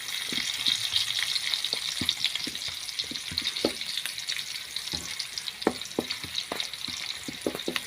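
Young jackfruit softened in lemongrass and coconut milk cooking in a pan, with a constant bright sizzle and frequent sharp scraping taps of a spatula stirring it, close and clear.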